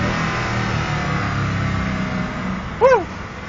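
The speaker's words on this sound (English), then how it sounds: "So that's the Agera R on a track." Koenigsegg Agera R engine on a track, a steady loud drone that swells into a brief rising rev near the end.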